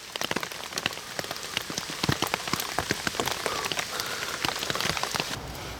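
Steady rain pattering on a tent or tarp at a heavy-rain wild camp in the UK, with dense drops striking close by in a constant, busy patter and no voices.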